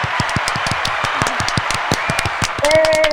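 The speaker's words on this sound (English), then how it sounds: "We're clapping it up for you." Small group of people clapping quickly and unevenly at close range to welcome a new member on a podcast, a short burst of applause with a voice coming in near the end.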